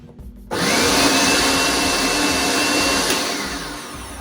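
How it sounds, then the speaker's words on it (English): A kitchen blender whirs loudly while blending salsa ingredients such as tomatoes, kicking on abruptly and then holding a steady, close, high-pitched motor roar with no talk. "All right, let's blend again."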